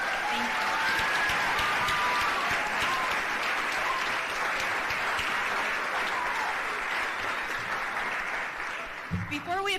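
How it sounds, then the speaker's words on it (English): An audience gives a round of applause for panelists at a Women in Leadership event for CUSD students, sustained and dense for about nine seconds before tapering off at the end. "And just a big round of applause,"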